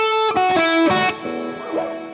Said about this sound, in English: So delay and reverb in series and parallel at the